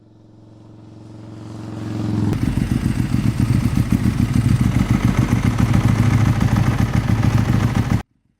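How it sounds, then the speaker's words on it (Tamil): Motorcycles start up, their engines building from a low idle into a loud, close, rapidly chugging run that holds steady for several seconds and then cuts off abruptly. "பைக்கை எடுத்து கிளம்பினார்கள்."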